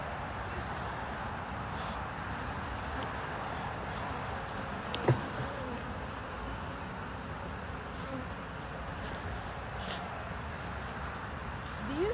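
Bees hum in a dense, constant drone around a big open hive, with close buzzing that continues steadily throughout and a faint bump partway through.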